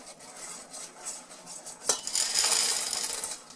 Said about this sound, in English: this is when you add in your 2 cups of chocolate